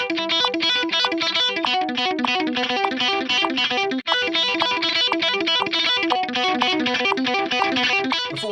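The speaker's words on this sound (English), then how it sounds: "I'll show it to you with a metronome. I'm going to start at 70 on the metronome" Electric guitar with distortion and effects plays a fast selective-picking lick of steady, evenly spaced notes over a constant pulse, loud and continuous, with one brief gap midway.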